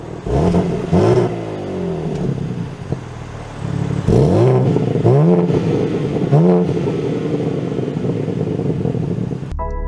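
A 2023 BMW M4 Competition Convertible sets off and accelerates, its engine revving up through several rising pulls with gear changes, loud and close from inside the car.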